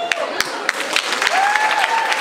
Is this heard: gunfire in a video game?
no